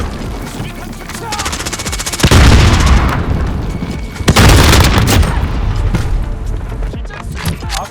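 Grenade explosions in Call of Duty Modern Warfare land as two heavy, loud booms a couple of seconds apart, set amid rapid gunfire and battlefield noise.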